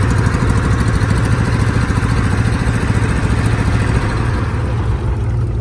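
A Craftsman DYT400 lawn tractor's small engine runs at a steady idle, loud and close with a rapid even putter that holds for several seconds with no talking.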